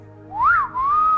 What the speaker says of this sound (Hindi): कोई सीटी बजा सकता है यहाँ पे?